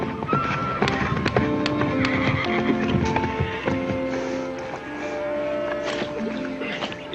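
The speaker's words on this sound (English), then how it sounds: "You giving you any trouble, horse?" A horse in an Old West ranch setting whinnies amid the clop of hooves and the lowing of cattle, a busy livestock scene with steady, overlapping animal sounds close by.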